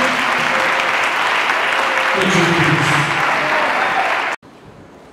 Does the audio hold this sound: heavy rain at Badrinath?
no